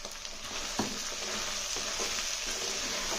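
Taro curry with chili powder is stirred in a pan, giving a steady sizzle and frying hiss with a few soft scraping knocks of the spoon, close and with no talk.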